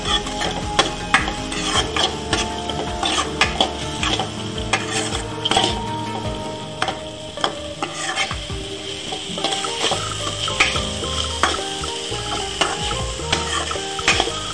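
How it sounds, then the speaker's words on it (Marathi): Soaked moong dal is stirred into sizzling spring onion greens in a pan, with busy, continuous scraping and clattering of the spatula over a constant fry hiss, close up, with no talking. "मुंगाच्या डाळीचा सोल टाकत आहे भिजलेला। मिक्स करून घेतो हे डाळ।"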